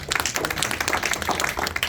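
Church congregation clapping together in steady, dense applause, loud and continuous throughout without any talk over it.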